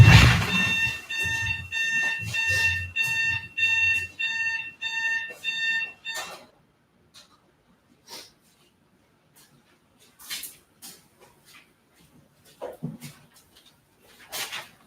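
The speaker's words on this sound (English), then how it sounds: "oops, my alarm." An electronic alarm beeps in a rapid repeating pattern of short, loud tones for several seconds, then stops, leaving faint scattered clicks and rustles.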